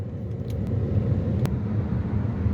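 Inside a Suzuki Wagon R cabin, a car passing outside comes through as a low, muffled rumble that swells slightly and stays steady, with a couple of faint clicks and no talk.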